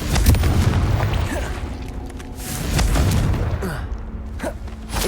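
Confringo blasting spells explode in Hogwarts Legacy combat, a dense series of loud booms and bursts with crackling pops and whooshes layered over a continuous low rumble, no voices present.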